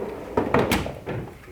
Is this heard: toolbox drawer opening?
yes